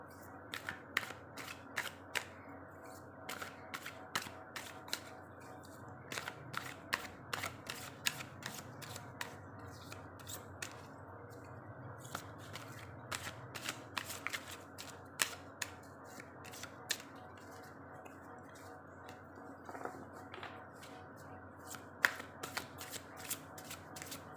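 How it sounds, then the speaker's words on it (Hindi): Tarot cards shuffled by hand in steady, rapid riffling bursts, a close, dry flutter of card edges repeating throughout with faint room hum beneath and no talking. "चलिए कार्ड्स को शफल करते हैं।"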